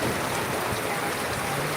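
Steady, dense rain pouring over an eggplant field during harvesting, a continuous loud hiss with no pauses and no voices.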